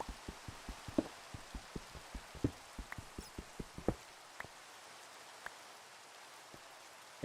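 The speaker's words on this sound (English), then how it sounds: "Oh, it's raining." Rain falls in Minecraft as a faint, steady patter, with a run of evenly spaced soft ticks in the first half before it thins to a quieter wash.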